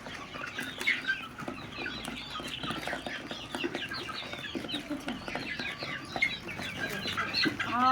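Chickens and a rooster at a morning farm setting, clucking steadily and busily as they peck at scattered feed, with occasional wing flaps and a dense chorus of overlapping calls close by throughout.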